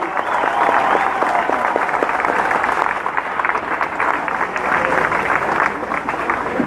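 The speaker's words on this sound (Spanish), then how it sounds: "Fuerte el aplauso para él." A crowd at an outdoor political rally in Guaymas, Sonora applauds steadily for a presidential arrival, dense continuous clapping with some crowd noise mixed in.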